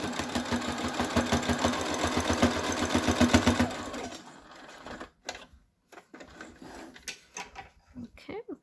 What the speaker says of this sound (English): put your machine to a single straight stitch and then get it in there and then just do a small stitch along the edge of this